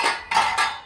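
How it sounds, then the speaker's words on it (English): A knife chops through carp fish pieces on a board, with three sharp, close impacts in a quick uneven rhythm and no voices. "we finished chopping our fish"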